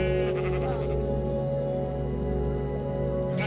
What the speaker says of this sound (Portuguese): achei já 2 ovelhas